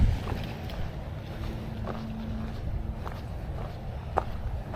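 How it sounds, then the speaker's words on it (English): Steady wind buffeting on the coastal hiking trail at Ka'ena Point, Oahu, a broad low rumble with gusts against the microphone, faint footstep-like taps scattered through it. "Boy, that wind is whipping."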